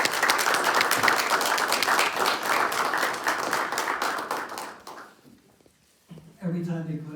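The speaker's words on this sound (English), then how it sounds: "let's give our firefighters another round of applause" Audience at a Ridgefield mayor and council meeting applauding firefighters, loud dense clapping for about five seconds that fades out, then a voice begins speaking.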